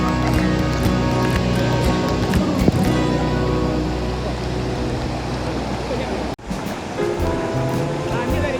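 Rushing river current at Lubuk Paraku, a loud broadband roar of flowing water that breaks off briefly near the end, with music or tonal sounds layered over it.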